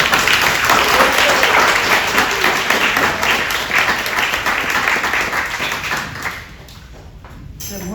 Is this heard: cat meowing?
no